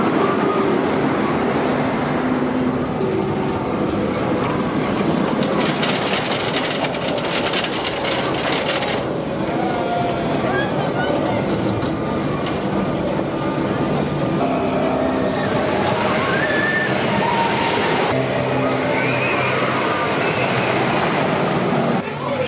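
A roller coaster train runs along its track at Alton Towers theme park, a loud, steady rumble with squealing wheels lasting throughout, with faint voices in the background.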